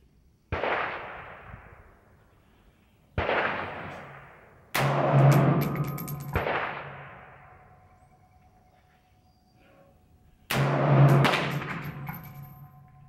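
Single shots ring out from an AR rifle in 7.62x39 fitted with a BCA upper, five loud cracks spaced a second or more apart. Each report echoes and decays outdoors, and two of them carry a sharp metallic ring.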